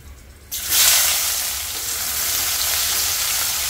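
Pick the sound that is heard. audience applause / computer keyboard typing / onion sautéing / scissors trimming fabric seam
onion sautéing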